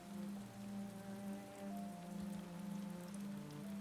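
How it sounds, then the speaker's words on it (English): Soft rain falls on stone and leaves, a faint, even patter sitting low beneath steady, gentle sustained tones, distant and calm throughout. "You are breathing with the rain now"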